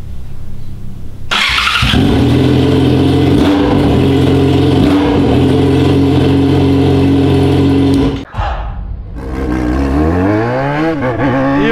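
A Yamaha XJ motorcycle engine starts up, runs at a steady loud rumble close by, then cuts briefly before revving and accelerating with rising pitch, with no talking over it.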